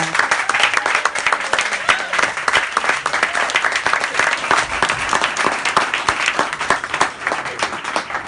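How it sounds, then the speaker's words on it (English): Loud, dense crowd applause for student singers, rappers and instrumentalists at a music academy show at Knuckleheads, sustained and continuous throughout, with a faint murmur of voices mixed in. "So let's give them all one last round of applause."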